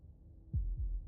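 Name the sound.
heartbeat sound in the video game Slay the Princess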